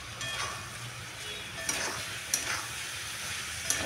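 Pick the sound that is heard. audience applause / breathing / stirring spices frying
stirring spices frying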